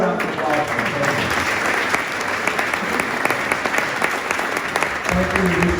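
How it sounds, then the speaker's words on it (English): A hotel conference audience in Madrid gives a further round of applause for a speaker named Antonio, loud continuous clapping throughout, with a brief voice emerging near the end. "And one more round of applause for Antonio."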